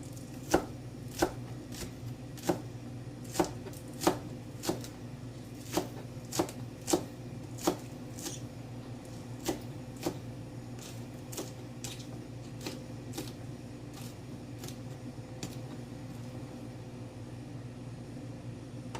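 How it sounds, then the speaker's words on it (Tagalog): A knife slices spring onion into small pieces on a board, crisp regular chops about one per second, close and fairly quiet over faint background hum, no talking. "Tapos, kaunting spring onion. So, i-slice din natin ng maliliit siya."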